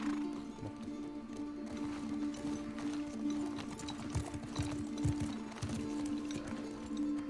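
Horse hooves clop in the video game The Last of Us Part II, a steady run of hoof falls beneath a constant tonal game hum, with occasional louder thuds.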